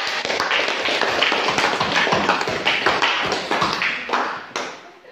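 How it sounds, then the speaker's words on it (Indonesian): Students in a classroom applaud a presenting group: a steady, dense patter of many hands clapping for several seconds before it thins out and stops. "Mari kita memberikan aplaus untuk kelompok 3."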